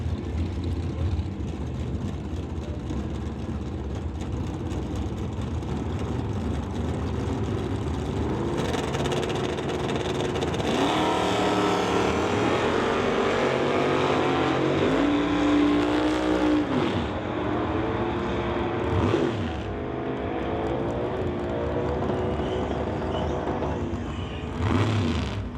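Chevrolet drag car from Cloverdale racing side by side with a second car down a drag strip, loud engines idling, then roaring hard with rising, shifting revs as they launch and pull away.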